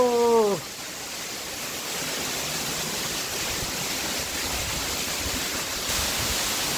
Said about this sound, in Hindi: खूबसूरत वाटरफॉल है भाई